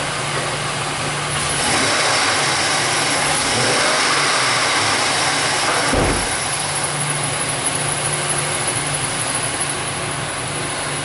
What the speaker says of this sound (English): Let me give her a little rev up tune up.